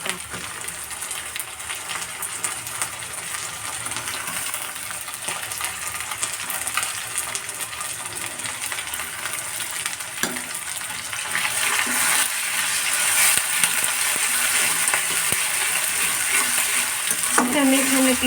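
Garlic, onion and ginger paste fries in a pan for a chicken roast, a loud steady sizzle that grows slightly stronger over time, with stirring scrapes and a brief clatter near the end.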